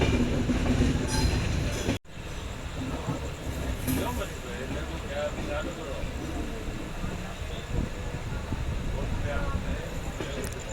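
Aboard the Sampark Kranti Express as it slows on a sharp curve near Londa Junction, a continuous rumble of rail wheels with clatter and faint squeals, with someone talking over it.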